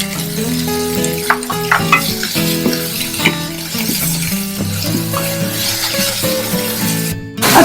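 Sliced onions with a little salt and sugar fry in a pan for a Bengali duck egg curry, giving a steady loud sizzle with occasional stirring scrapes and clatter and no voices.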